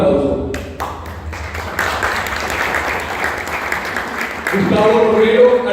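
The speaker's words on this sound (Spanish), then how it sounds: "pido un fuerte aplauso" Audience applause at a book presentation during an international book fair: a dense burst of clapping from a crowd that swells and holds for several seconds, with voices breaking through near the start and end.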